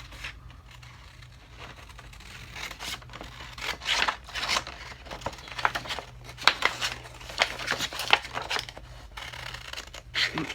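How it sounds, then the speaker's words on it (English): Scissors cut out a printed paper image at close range, irregular snips and paper crinkling that start sparse and grow busier and louder, with no voices. "what you want to do is go ahead and cut your image out."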